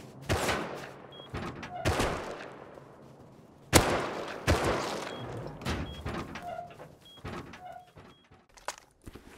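Gunfire rings out during a fight at the rocket launch site in the video game Rust, loud sharp shots in scattered bursts with echoing tails and quieter clatter between.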